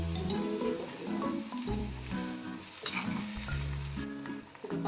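Ginger tossed into spices sizzling in hot oil while making beetroot pickle, with steady frying crackle and repeated stirring scrapes in short bursts, close and moderately loud, no talking.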